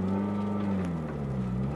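Chevrolet Aveo UVA LT pulling away in first gear after a light rev with the air conditioning running, a low steady engine hum heard from inside the car.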